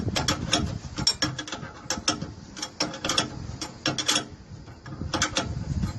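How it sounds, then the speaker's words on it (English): Ratcheting clicks from a wrench tightening a nut on a Nissan Frontier stabilizer (anti-sway bar) link, short bursts of close mechanical clicking separated by brief pauses, with no talking. "So I basically want to tighten this nut on both ends so it could have an even thread count on the stabilizer link."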